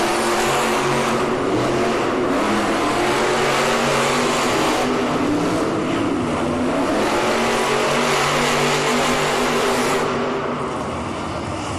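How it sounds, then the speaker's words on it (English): Grave Digger monster truck competing in a Monster Jam arena race in Kansas City, its engine roaring loud and steady throughout, with a dense arena rumble and a slight drop near the end. "Your winner, Kristen Anderson in a Gravedigger."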